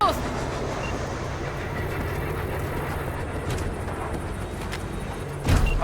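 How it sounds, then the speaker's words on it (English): Train pulling away in the video game Cyberpunk 2077: a steady, loud rumbling roar of rail movement that holds throughout, with a slight swell at the very end. "All right, the train's leaving."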